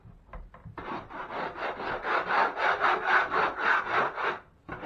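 Trowel skimming joint compound mud over a textured wall, a steady rhythmic scraping rasp of repeated close strokes lasting several seconds after a few short taps.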